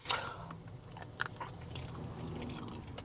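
Crunchy bites and chewing of a peanut, close and quiet, a sharp initial bite followed by soft irregular munching with no talk.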